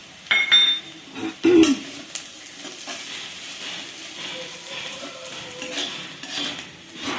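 Spice powder ground from sesame, coconut, chilli, salt and garlic is stirred into drumstick curry frying in a pan. A few loud clanks of a utensil against the metal sit over a soft, steady sizzle.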